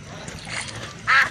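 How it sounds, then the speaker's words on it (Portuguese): Ducks at a park quacking, a few scattered calls and then one louder nasal quack near the end, close by over a soft outdoor background. "Patos. E veja, todos eles vieram agradecer."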